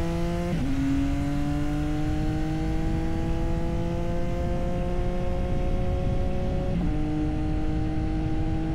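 CFMOTO 675NK motorcycle engine under way, a continuous droning tone that climbs steadily in pitch through each gear, with two quick shifts dropping the revs before it rises again, heard amid wind rush.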